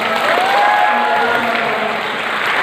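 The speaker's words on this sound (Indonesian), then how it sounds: "Tepuk tangan dulu untuk teman-teman." Audience applause at a talk honouring figures from West Sumatra, a steady wash of clapping over the whole stretch, with a voice speaking faintly through it.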